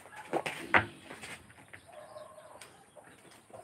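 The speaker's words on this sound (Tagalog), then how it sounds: "Mga manok." Chickens clucking in a rural province of the Philippines: a few sharp, fairly close clucks early on, then fainter scattered calls over quiet outdoor background.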